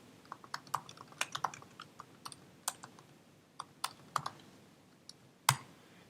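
Typing on a computer keyboard into a spreadsheet cell, a brisk irregular run of crisp key clicks and a heavier final tap, close-miked and quiet, no talking.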